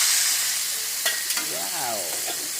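Seafood sautéing in a hot pan gives a steady close sizzle, with a couple of quick utensil clicks and a brief squeaky scrape as it is stirred.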